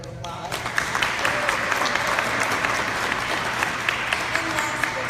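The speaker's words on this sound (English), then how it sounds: "Let's give Rashida a round of applause." Town hall audience claps for a former Michigan state representative, a sustained, fairly loud wash of many hands with a few sharper claps, voices murmuring underneath.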